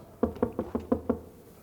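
Six sharp knocks on a wooden door in quick, even succession, close and fairly loud, then a short quiet tail.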